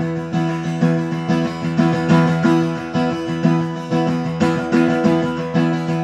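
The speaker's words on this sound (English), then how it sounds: "Uh, the other thing is you could accent all of them." An acoustic-style guitar strums in a steady groove with the eighth notes of beat four hit hard, producing a recurring accented burst in each bar, played solo and close.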